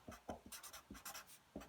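A pen scratching on paper in short quick strokes, a series of close, quiet bursts in an irregular rhythm as figures are jotted down, with no talking.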